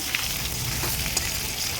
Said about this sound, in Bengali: আলুটা আমি আগে ভেজে নেব